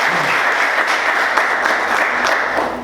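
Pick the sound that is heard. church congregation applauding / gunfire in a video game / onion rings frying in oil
church congregation applauding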